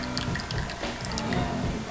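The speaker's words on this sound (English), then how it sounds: "So first thing I'm going to do is wet the paper filter." Water pours steadily over a paper coffee filter set on a cup, a close, continuous trickle and splash lasting a couple of seconds.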